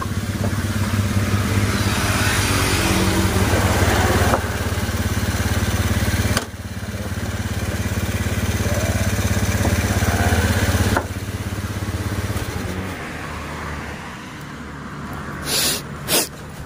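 A Honda Beat motorcycle engine, converted from fuel injection to a carburetor, idles steadily just after starting with a low, continuous rumble, fairly loud and close, with a couple of brief bumps near the end.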